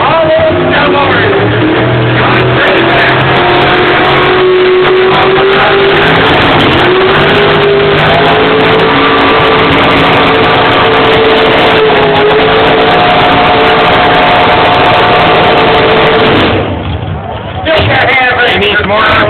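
Big-block Chevrolet 427 V8 in a tractor-pull machine, revving loud and sustained with wavering pitch as it strains down the track, a brief dip near the end, with crowd and announcer voices mixed in.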